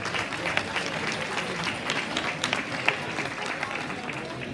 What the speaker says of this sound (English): give all these kids a big round of applause